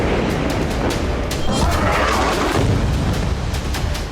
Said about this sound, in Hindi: गाजा में एक बार फिर रिहायशी इमारतों पर बम।